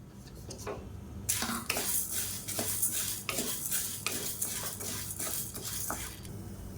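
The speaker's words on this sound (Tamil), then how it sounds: "எண்ணெய் சூடானதும் மெஷரிங் கப்பில் 1 கப் அளவுக்கு கடலைப்பருப்பு எடுத்திருக்கேன். இதை வந்து நல்லா வறுத்துக்கலாம்." Chana dal is stirred and roasted in hot oil in a pan, with a metal spoon scraping and clinking against the pan in uneven strokes over a soft sizzle. No one speaks.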